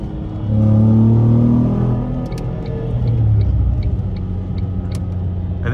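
A Ford Mondeo ST220 drives through the city streets of Sofia, Bulgaria, its engine a loud, close rumble that climbs in pitch under acceleration, then settles into a steady droning cruise.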